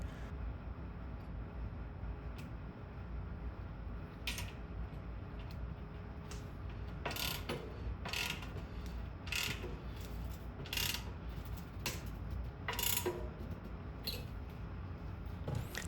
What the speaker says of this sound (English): I slide the cassette into place and tighten down the lock ring using the same tool I'll be using for the rotor.